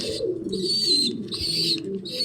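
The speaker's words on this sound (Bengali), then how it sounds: "আরেক জোড়া রাসগোল্লা কবুতর, একটু আনকমন কালারের, খুবই সুন্দর, ডিম নিয়ে বসে আছে।" Rasgolla pigeons of an uncommon colour, a pair sitting on eggs, give soft, low, repeated cooing in several short close phrases, with no talking.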